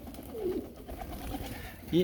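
A pigeon in a backyard loft gives one brief, low coo near the start, with a faint clipped call at the very end, over a quiet, slightly noisy background.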